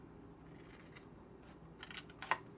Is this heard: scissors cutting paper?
yes